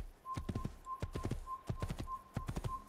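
Horse hooves clip-clop in a steady galloping rhythm in the game Assassin's Creed, fairly quiet, with a faint steady whistling tone running underneath.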